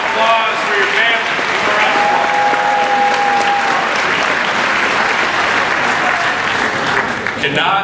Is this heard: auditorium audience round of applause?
yes